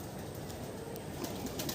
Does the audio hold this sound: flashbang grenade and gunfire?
no